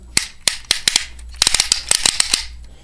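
Noisy clicking and ratcheting from the front legs of an original Megazord toy being moved, a run of sharp, close plastic clacks that starts sparse and then quickens into a dense burst.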